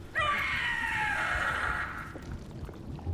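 A monstrous Howler creature in Dragon Age: The Veilguard lets out a single loud, drawn-out shriek lasting about two seconds, its harsh cry tapering off into low background rumble.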